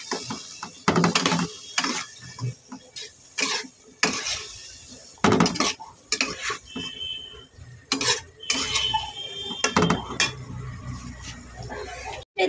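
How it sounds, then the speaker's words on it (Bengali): Metal spoon stirring and scraping hilsa fish curry with turmeric and eggplant in a pan, a busy run of close clinks and scrapes that comes and goes in short bursts. "দিয়ে রান্নাটাকে ভালো করে নেড়ে চেড়ে নিচ্ছি।"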